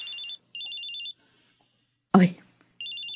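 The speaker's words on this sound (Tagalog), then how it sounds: "si Marita, tumatawag sa cellphone ko" A cellphone plays a warbling electronic ringtone in short repeated bursts with silent gaps between them. Midway, a woman gives a brief exclamation between the rings, indoors and close.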